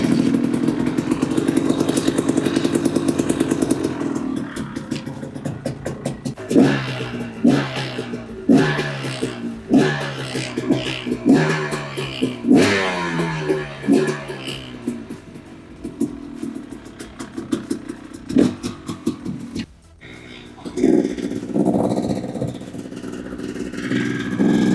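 A KTM 250 XC two-stroke dirt bike, nearing the end of a revamp, starts up close by and runs loudly, its engine revved in repeated rising blips before settling back toward a busy idle.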